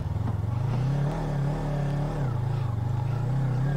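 A motorcycle engine held on the throttle at low, steady revs, with a close, continuous throb that dips and rises slightly, heard alone without talk.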